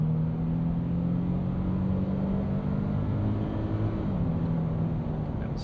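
A 2025 Nissan Frontier Pro-4X midsize pickup with a V6 accelerating at full throttle, its steady engine drone heard from inside the cab, holding a constant low tone for several seconds.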